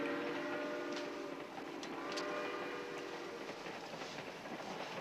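A passenger train rolls along the rails in a steady rumbling hum, with faint rhythmic clicks and a few sharp metallic accents over a continuous low drone.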